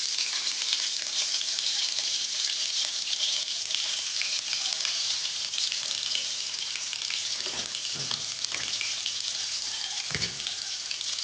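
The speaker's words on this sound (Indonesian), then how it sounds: "Ini akan saya tumis sampai layu." Sliced shallots sautéing in hot oil give a steady, close hiss and sizzle, with a few soft stirring knocks near the end.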